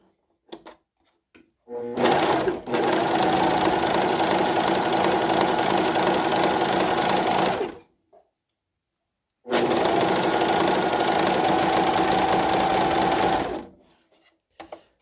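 A Singer S0235 sewing machine stitches a scallop pattern in two continuous runs of about five and four seconds, a close, steady mechanical whir and rapid needle rattle, separated by a brief pause and faint handling clicks.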